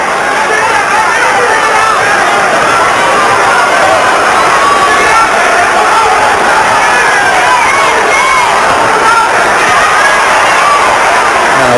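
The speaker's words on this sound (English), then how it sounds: "asking for applause in the final round then, and the MC Michael Buffer and the crowd responding to that" A large boxing arena crowd at the Thomas Hearns versus James Kinchen fight applauds and cheers loudly in the final round, a dense, constant roar with whoops and shouts throughout.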